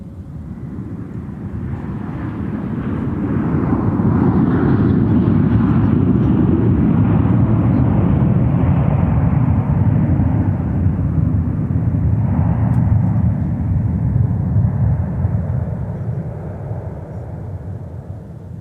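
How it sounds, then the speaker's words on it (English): A Boeing 737-900ER comes in to land at MSP Airport, its jet roar swelling steadily from a distance to a loud, broad rumble that holds for several seconds before slowly fading, with no talk over it. "being served by a 737-900ER that's taken peeps to MSP Airport. And almost about to touch down."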